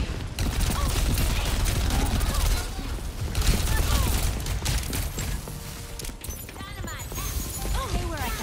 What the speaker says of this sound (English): Sombra's 2 is the machine gun